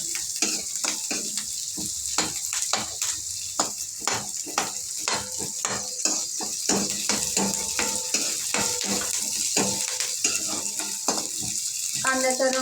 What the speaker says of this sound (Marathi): मग थोडंसं तेल टाकून त्यामध्ये कांदा टाकून घ्यायचा, लसूण, अद्रक कट केलेलं, त्याला परतवून घ्यायचं छानपैकी।